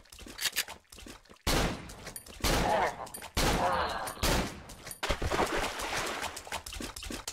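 Gunshots in the horror video game Cry of Fear, several loud sharp blasts in bursts with gaps between them, mixed with scraping and movement noises.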